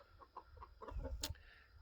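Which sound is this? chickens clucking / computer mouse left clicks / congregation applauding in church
chickens clucking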